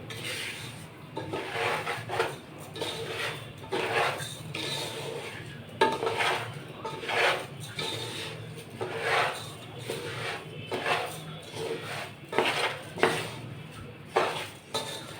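Rice being dry-fried and stirred in a pot on medium heat for beef biryani, with a spoon repeatedly scraping and rasping against the metal in an irregular rhythm, close and steady throughout.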